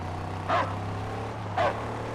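A dog in the Mad Max video game barks twice, two short sharp yaps about a second apart, heard over a steady low engine-like drone with no talking.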